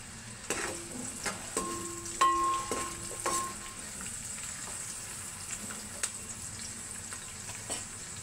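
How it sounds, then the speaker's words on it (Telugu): Two large chopped onions dropped into hot oil and frying, a steady soft sizzle with scattered stirring knocks and scrapes against the pan, no talk. "ఆయిల్ కాగిపోయింది కదా, కోసి పెట్టుకున్న ఉల్లిపాయ ముక్కలు వేస్తున్నాం"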